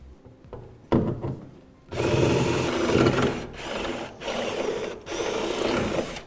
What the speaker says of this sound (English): Now we'll go ahead and drill out our holes for our safety chain tie downs.